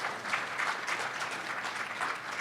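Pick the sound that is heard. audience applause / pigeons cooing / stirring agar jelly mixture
audience applause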